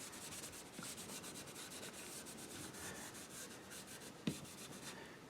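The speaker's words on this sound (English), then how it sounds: "Kind of uses the wax as a lubricant for the buffing." A wooden box is buffed with wax by hand in quick, even back-and-forth rubbing strokes, close and steady, with one sharper knock near the end.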